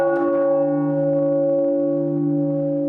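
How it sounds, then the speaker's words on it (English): Church bells toll at midday for the Queen across a northwest English region, a single steady ringing bell tone with long sustained harmonics, loud and close, swelling and fading evenly with no talk. "at midday, in villages, towns and cities across the region, the bells tolled."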